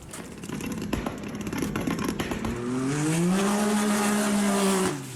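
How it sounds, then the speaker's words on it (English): Heavily modified vehicle fitted with an Assassin stage 6 kit, idling with scattered pops and crackles before revving hard into a loud, rising engine roar that holds for a couple of seconds and then cuts off. "So we get some cool little pops and some flames, and it goes vroom vroom out of the hole real fast."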